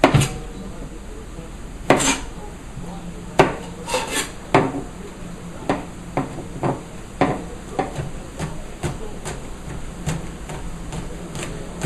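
A knife chops garlic on a board for risotto, the blade striking in a steady run of sharp, close taps, loud at first and then settling into an even rhythm with no talking.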